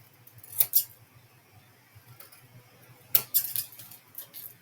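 Scissors snip paper for a decoupage craft, with two short bursts of crisp close cutting a few seconds apart and faint handling noise between them.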